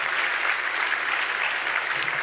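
Steady, dense applause from an audience at a university science communication final, continuous and fairly loud throughout with no pauses.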